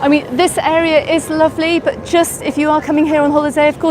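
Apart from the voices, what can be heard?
None of the usual background noises is heard.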